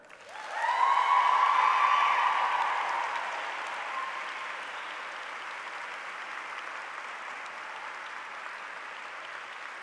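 Audience applause at a university graduation ceremony held in a church, with a burst of loud, dense clapping that swells quickly, then fades to a steady, softer patter filling the large reverberant space.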